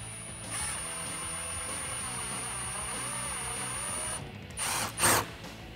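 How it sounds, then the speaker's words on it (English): A power drill whirs steadily for several seconds, then stops, followed by a few short bursts as a self-tapping screw is driven home into a car's chin spoiler, close and loud. "you can go ahead and drill right into the bottom"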